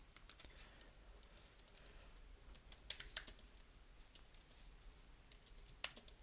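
Code being typed on a computer keyboard comes through as faint, close clicks in uneven bursts and short runs, with brief pauses between flurries and no talking.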